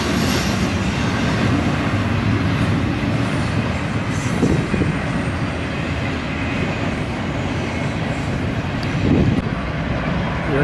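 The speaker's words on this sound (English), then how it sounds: "Here comes the end of the train with another DPU." Long eastbound freight train of container cars rolling past on the rails at Benson, Arizona, a loud continuous low rumble with wheel noise and a couple of heavier thumps as the rear distributed-power locomotive nears.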